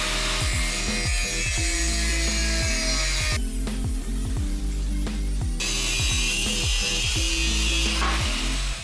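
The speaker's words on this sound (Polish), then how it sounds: "jedno cięcie szlifierką kątową 1600 W zasilaną z sieci" A 1600 W mains-powered angle grinder with a new 0.8 mm disc cuts through a steel lock shackle, a loud, continuous grinding whine broken by rhythmic, repeated rasping strokes, with no talk.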